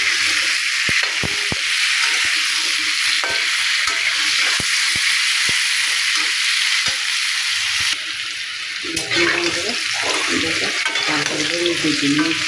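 Beef fries in oil in a pan with a loud, continuous sizzle, punctuated by sharp clicks and scrapes of stirring, and brief bubbling shifts in the second half.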